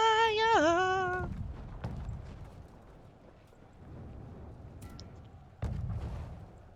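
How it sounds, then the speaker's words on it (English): Culverins fire at siege towers in a siege video game, heavy booming shots with a distant rumble, one louder blast near the end, following a short rising tonal effect at the start. "there's definitely some culverins already shooting"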